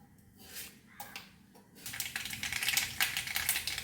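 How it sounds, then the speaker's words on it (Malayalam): Mustard seeds spluttering in hot coconut oil in a pan, quiet at first with a few pops, then a dense rapid crackle of sharp little bursts building for the last couple of seconds, close and fairly soft. "കടുക് പൊട്ടി തയ്യാറായിട്ടുണ്ട്"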